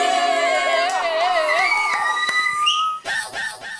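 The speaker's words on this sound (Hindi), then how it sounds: "सीटी।" A sharp whistle rings out on a Hindi comedy show set, shrill tones rising and sliding over a bustling background of voices, then a short burst of a second whistle near the end.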